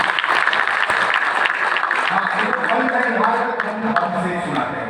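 Steady, dense applause from the audience at a Hindi poetry event, loud and continuous for several seconds with faint voices beneath.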